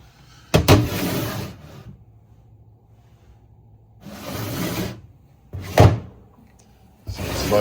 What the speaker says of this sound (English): Sliding doors, they slide too easily.